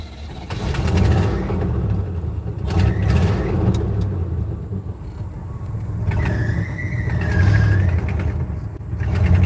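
A farm tractor's engine rumbles loudly up close while hauling a load of manure, surging and sagging unevenly as it struggles and starts to die, with a whining tone rising and falling midway.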